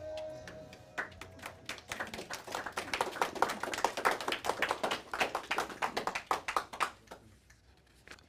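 Audience applause in a lecture hall after a reverend's spoken performance, a dense run of many hands clapping that swells, holds for several seconds and then thins out to a few scattered claps.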